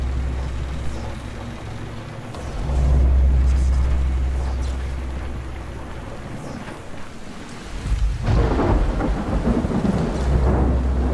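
Stormy weather in the zombie game Dying Light, with a continuous low rumble of thunder and rain that swells into a heavy roll partway through, then a fresh loud burst near the end.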